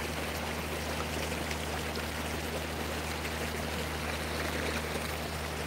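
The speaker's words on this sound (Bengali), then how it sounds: "প্রচণ্ড গতিতে জলের স্রোতটা কিন্তু এগিয়ে চলেছে" Fast-flowing river current heard from someone standing in the water, a steady, dense rushing wash of moving water with no pauses, close and moderately loud.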